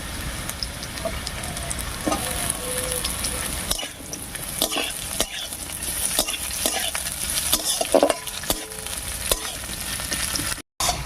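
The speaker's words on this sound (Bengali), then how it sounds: "রসুন কুচি দিয়ে একটু নাড়িয়ে নিয়েছি এবার এর মধ্যে দেবো পেঁয়াজ কুচি আর চিড়ে রাখা কাঁচা লঙ্কা" Garlic, chopped onion and green chili frying in a pan, a constant close sizzle with repeated sharp stirring scrapes and clicks of a spatula throughout, with a brief cut near the end.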